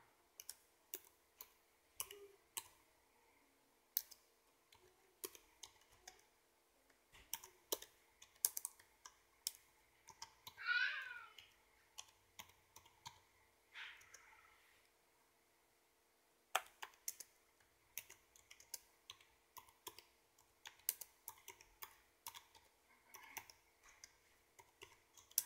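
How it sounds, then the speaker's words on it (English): Text being typed on a computer keyboard, a faint, close sequence of irregular clicky keystrokes with brief pauses between them, with no talking. "Now we're going to type in just something."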